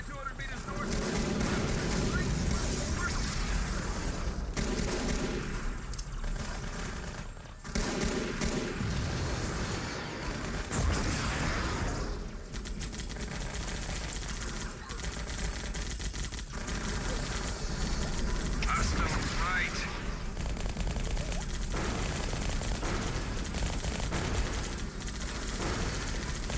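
Rattling gunfire and heavy artillery bursts from a war video game roar almost without pause, thick and loud, with shouted voices breaking through the din now and then.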